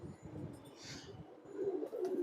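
Female pigeons in a loft give low, soft coos close by, with the murmuring growing fuller and louder in the second half and a brief higher chirp in the middle.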